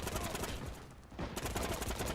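Video game gunfire rattles in dense, loud bursts, breaks off briefly near the middle, then resumes just as heavy.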